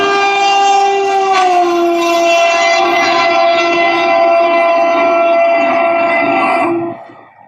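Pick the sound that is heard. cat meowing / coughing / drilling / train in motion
train in motion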